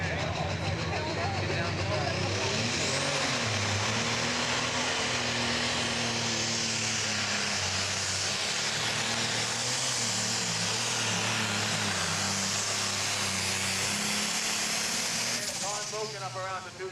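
John Deere 4000 tractor named Gone Moken making a pro stock pulling run at a tractor pull in Mercer, Pennsylvania, its engine roaring loud and sustained throughout. An announcer talks over it.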